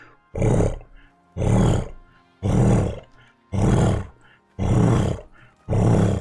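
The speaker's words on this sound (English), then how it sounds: "that is the sound of a leopard" Six rasping, sawing grunts from a leopard in the game Icarus, evenly spaced about a second apart, loud and fairly close with quiet gaps between.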